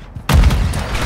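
A frag grenade detonates in Warzone Mobile multiplayer, a sudden loud booming blast after a quiet moment, followed by a sustained rumbling roar that slowly fades.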